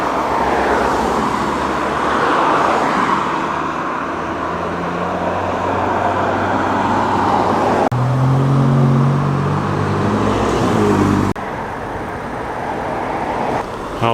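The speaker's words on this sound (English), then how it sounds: "Alpha GTV, very nice, one of the 105 series cars." A classic Alfa Romeo GTV of the 105 series drives past at a car show, its engine rumble rising and fading against steady roadway noise, loud and fairly close.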